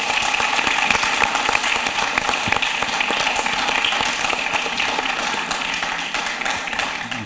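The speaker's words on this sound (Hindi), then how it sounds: "जोरदार तालियों से उन्हें आमंत्रित करें" A Hindi kavi sammelan audience claps steadily for the poet Dr. Prashant Dev of Shikohabad, a dense, even patter of many hands that stays loud and continuous throughout.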